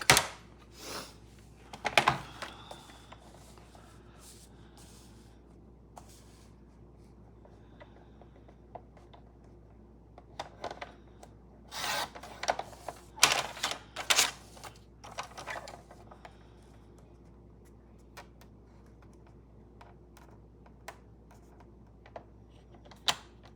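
A paper stamp is cut out with scissors, producing scattered short snips and rustles in bursts, clustered near the start and in the middle, with quiet pauses between.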